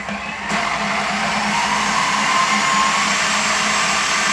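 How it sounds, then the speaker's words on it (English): Electric hand mixer beating banana batter made with oil, a steady whirring motor hum that starts abruptly after a brief quiet moment and runs continuously near and fairly loud. "I'm just going to use this mixer"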